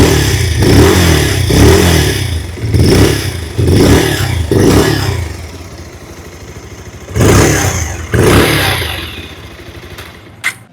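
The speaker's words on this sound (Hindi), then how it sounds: "आइए अभी सुन लेते हैं इस बाइक की एग्जॉस्ट" A 2026 Bajaj Pulsar 180 motorcycle revved repeatedly up close, a series of sharp throttle blips rising and falling in a rough rhythm, settling to idle between bursts before two final strong revs.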